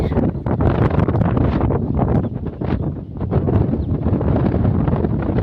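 Strong gusts of wind across a groundnut field buffet the microphone in loud, rough bursts, a continuous roaring rush with surging and dipping intensity.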